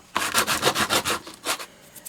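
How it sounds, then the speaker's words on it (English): Sandpaper is rubbed over the sides of a small plastic 1x1 Rubik's cube, making about eight quick, rhythmic rasping strokes. The scraping is close and fairly loud, with a short pause near the end and no talking. "take your sandpaper, and I've got a little pink plastic dust from something else I was sanding onto before, and then just sand down all the sides"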